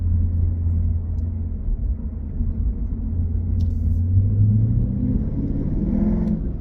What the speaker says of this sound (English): You blip the throttle a little bit, it makes the rumble sound.